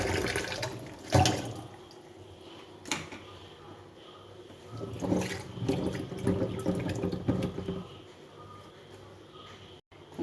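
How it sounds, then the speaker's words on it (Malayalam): Running water splashes and sloshes in a sink, with irregular knocks and handling noises as cherries are rinsed by hand, close and steady. "ഇനി നമുക്ക് ഒന്ന് രണ്ട് പ്രാവശ്യം നല്ല വെള്ളത്തിൽ കഴുകിയെടുക്കാം"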